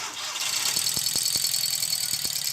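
A VW Gol G4 with the EA111 engine turns over and runs rough, a steady high whine or squeal over the engine noise, with a few low knocks and shudders from the faulty motor, heard up close.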